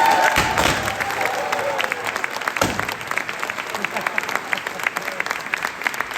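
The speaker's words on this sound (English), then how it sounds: "The room stood and applauded the work of Dr. White for the last 10 years at CCT" Audience applause at a community-organisation banquet, a dense sustained clapping from a full room that stays steady throughout with a few louder cheering moments.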